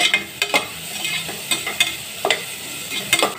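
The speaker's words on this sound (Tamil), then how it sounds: "ஸோ நல்லா ஒரு பொன்னிறமாக வர்ற அளவுக்கு வெங்காயத்தை வதக்கி எடுத்துக்கலாம்." Onion sautés in a pan for vegetable biryani, a faint continuous sizzle punctuated by quick, repeated spatula scrapes and taps as it is stirred close up.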